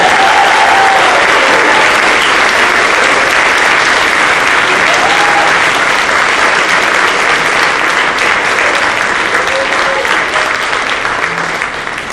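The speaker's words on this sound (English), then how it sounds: "please give a round of applause to the newly inducted members of the Ontario Gallery Chapter." Sustained, loud applause from an audience at a school awards night honoring newly inducted language chapter members, steady clapping filling the whole stretch with some crowd noise.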